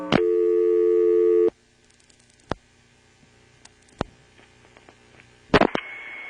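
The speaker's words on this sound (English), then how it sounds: "I'm going to dial 72." A 1977 NX1-E telephone exchange in Vanceboro, North Carolina: a steady tone cuts off, then scattered faint clicks and dial pulses follow before a new tone starts at the end, close and clear, with no talking.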